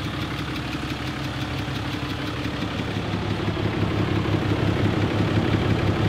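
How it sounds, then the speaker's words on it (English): From the front of a dump truck, its diesel engine idles with a loud, steady, slightly knocking rumble, a rhythmic low throb holding evenly throughout, with no voices. "this truck makes so much noise of two different tones"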